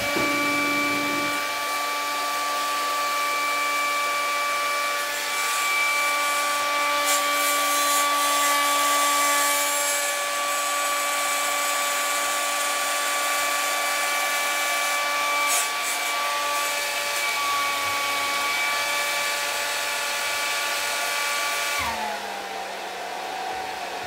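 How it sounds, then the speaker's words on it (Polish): A hair dryer runs at close range with a steady, loud whirring hiss and a fan hum, holding constant for over twenty seconds before winding down at the end. "No i teraz zacznijmy suszarkę."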